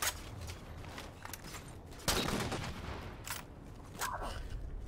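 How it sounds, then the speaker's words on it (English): Rapid bursts of gunfire from Halo 4 as sniper enemies are shot down, dense overlapping shots with a sharper loud burst midway, steady and close with no talking. "Shooting all the sniper dudes"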